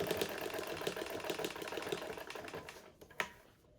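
A sewing machine stitches the second dart leg of a skirt, a steady fast mechanical whir-and-tap running continuously before stopping near the end, followed by a single brief click; moderately quiet, with no voice.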